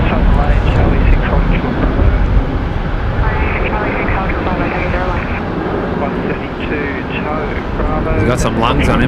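A large aircraft at Brisbane Airport sends out a loud, sustained engine roar that stays strong and fades slightly toward the end, with wind buffeting and voices talking underneath.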